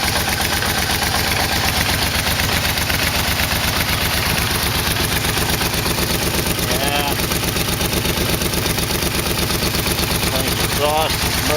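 A Yamaha V-Max motorcycle engine idling with a new exhaust, steady rapid pulsing with a thin metallic rattle over it, close and loud, with a person talking now and then.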